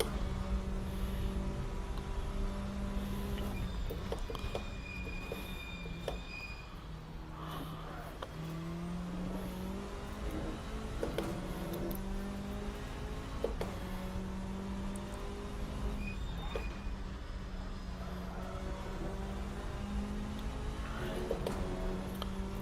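Hyundai Elantra race car engine droning steadily in a sim racing game, a continuous loud hum with shifting pitch as it accelerates and lifts through corners, alone without talk.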